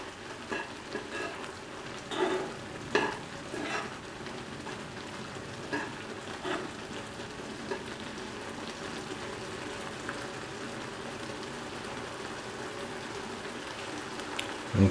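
Carrot and green lentil vermicelli pasta is mixed in a pan: a steady, soft sizzling hiss broken by a few scattered scraping clicks from the spoon early on, with no voices.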